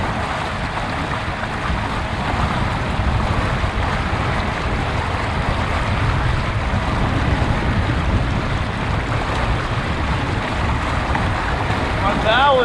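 A motorized TitanX 10.5 kayak running at full throttle on a lake, a steady loud hum of motor and rushing water with wind buffeting the microphone, continuous throughout.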